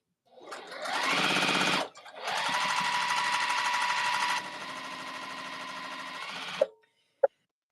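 A sewing machine stitches quilt pieces in two long bursts of steady rapid whirring, broken by a short pause, then stops, followed by a couple of small clicks.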